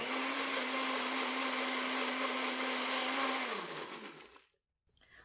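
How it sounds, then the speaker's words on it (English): A blender pulps overnight-soaked paper into a batter-like mush, a loud, steady motor whine running for several seconds before it winds down and stops, followed by a brief quiet rattle. "just pop it into a blender like this and just pulp it until it's the texture of cake batter"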